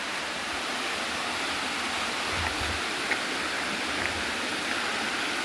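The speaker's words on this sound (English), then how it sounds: "There's the waterfall, guys." A waterfall rushes in a steady, dense roar from nearby among rock formations, constant and unbroken throughout with a few faint clicks on top.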